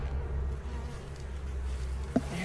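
Honey bees buzz at close range during a hive inspection on the Mississippi coast, a steady low droning hum with a faint clack near the end.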